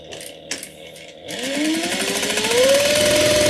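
Sewing machine stitching an X on a 100% cotton bowl cozy at a 2.5 stitch length. After a few handling clicks the motor whirs up, rising steadily in pitch and loudness into a continuous close hum.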